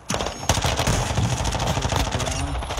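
Rapid automatic gunfire in Call of Duty Warzone 2, a dense, loud stream of closely spaced shots filling the whole moment with no talk over it.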